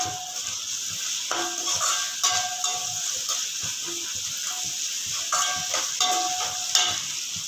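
Korean Maggi noodles with chaat masala being stirred in a pan: a constant sizzle with scraping and clinking of a spoon against the pan, some sharper taps, steady and close throughout.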